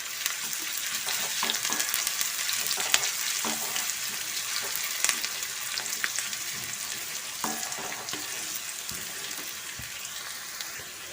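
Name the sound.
onions and curry leaves frying in oil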